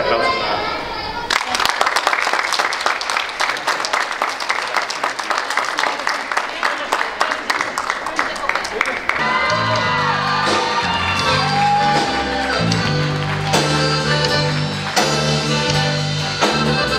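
Wedding guests clap, shout and whoop together, loud and continuous, and then a music track takes over midway while the cheering carries on underneath.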